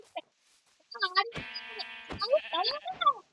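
A sheep or goat bleats in the Minecraft video game, a few short wavering cries close by, mixed with people talking and one voice mimicking the animal.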